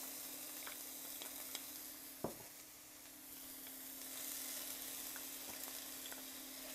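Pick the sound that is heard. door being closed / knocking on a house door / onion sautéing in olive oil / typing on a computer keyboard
onion sautéing in olive oil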